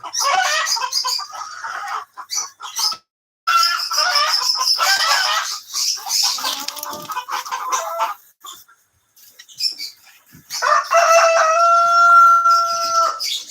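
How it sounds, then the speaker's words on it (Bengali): Chickens on a home farm cluck loudly and steadily in a busy chorus of several hens, with a rooster's crow standing out near the end; all close by and with no talking. "বন্ধুরা আপাতত এই হচ্ছে আমাদের কালেকশনের মুরগিগুলা"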